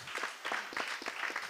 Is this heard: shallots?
no